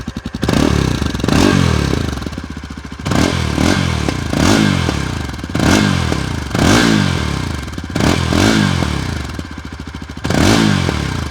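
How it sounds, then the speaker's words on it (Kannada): A Yezdi Adventure 2025 motorcycle running and blipped repeatedly: a loud, close exhaust note that rises and falls in about eight revs, each swelling then dropping back to idle, with no talking. "ನಿಮಗೀಗ ಎಕ್ಸಾಸ್ಟ್ ನೋಟ್ ಒಂದು ಕೇಳಿಸೋಣ ಈ ಗಾಡಿನ ಸ್ಟಾರ್ಟ್ ಮಾಡೋದಕ್ಕೆ ನಾನು ಕ್ಲಚ್ ಹಿಡಿಲೇಬೇಕು"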